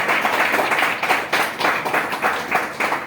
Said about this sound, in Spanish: Aplaudan primero,